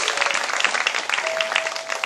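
An audience at an open lecture claps briskly and evenly to greet a guest, a dense, steady applause lasting about two seconds.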